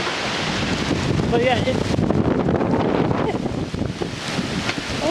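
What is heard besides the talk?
strong wind during a severe thunderstorm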